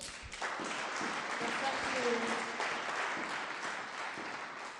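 A church congregation applauds during a sermon, a steady wash of many hands clapping at moderate distance, filling the room evenly for several seconds without speech.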